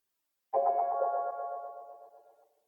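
A single synthesizer stab from the Analog Lab preset Wallery, with a bright, glassy tone, sounds once, rings out and fades smoothly over about two seconds.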